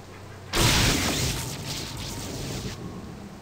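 A thunder and lightning crack in Baldur's Gate II hits suddenly and loudly, then rolls on as a broad rumble for about two seconds before cutting off.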